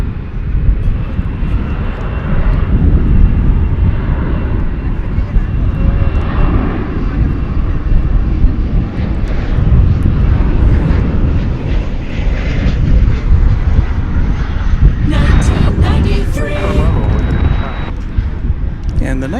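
A Delta Airbus A320 jet takes off at DFW Airport, its engines giving a loud, sustained roar that swells and holds, with wind buffeting the microphone and a few sharp clicks and bumps near the end.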